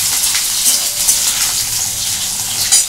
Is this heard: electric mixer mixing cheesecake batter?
no